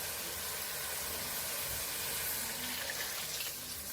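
Chicken broth and water pour steadily into a pot with a soft, continuous hissing splash, faint and unbroken throughout.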